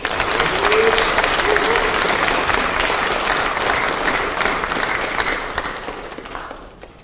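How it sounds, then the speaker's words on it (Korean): Sustained, dense applause from party lawmakers at a People Power Party caucus meeting welcomes presidential candidate Kim Moon-soo, a steady roar of many hands that slowly fades out at the end. "환영과 격려의 박수 부탁드립니다."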